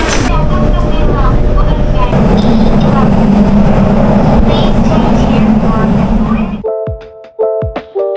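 A last-train ride in Japan fills most of the moment with a loud, steady rolling rumble, which then drops away to near quiet, where a few short chime-like tones sound.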